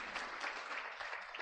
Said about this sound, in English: So can you just have, clap for that?